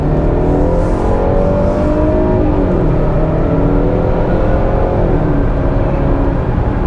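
A 2020 Range Rover Evoque SE P250 small SUV accelerating hard, its engine rising in pitch through the gears with a steady loud drone, heard from inside the cabin.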